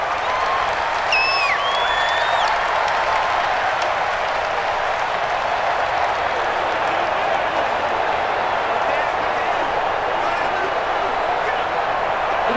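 A steady, dense roar from a stadium crowd in the Madden NFL 20 football video game, during a Los Angeles Rams versus Tampa Bay Buccaneers game, holding at a constant level with faint whistles above it.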